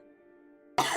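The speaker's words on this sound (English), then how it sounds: "Oh, I'm coughing." A person coughs once, a sudden loud burst near the end after a quiet stretch of faint steady hum.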